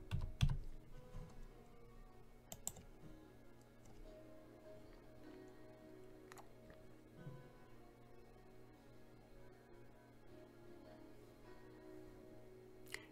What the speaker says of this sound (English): you can either use the keypad or you can use your keyboard